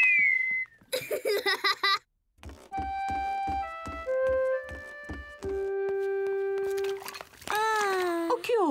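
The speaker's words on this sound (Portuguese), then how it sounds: "George consegue assobiar." The cartoon pig George whistles a tune of clear, steady notes, one after another. Bursts of childlike laughter and chatter come before it, and a sliding, wavering voice follows.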